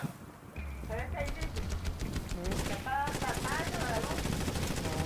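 Rapid machine-gun bursts crackle through a Blitz Brigade match, loud and steady for a few seconds, with someone talking over the shooting.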